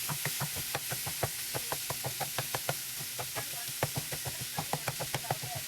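Ground pork browns in a pan with a steady sizzle, while a spatula knocks against the pan in a brisk, even rhythm of many sharp taps as the meat is broken up.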